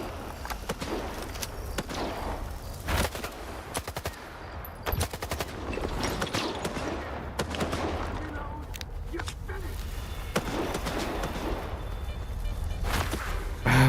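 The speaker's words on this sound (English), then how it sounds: "Let's just blast that thing with AK first." Rapid AK rifle fire in the video game STALKER 2, dense bursts of loud, close shots repeating through the whole stretch with scattered louder cracks and a low, busy background.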